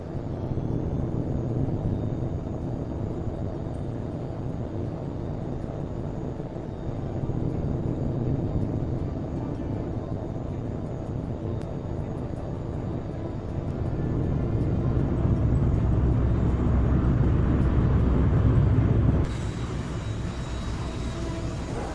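A jet fighter in the video game HAWX 2 roars through its takeoff, a loud sustained engine rumble that swells in waves and then rises sharply near the end.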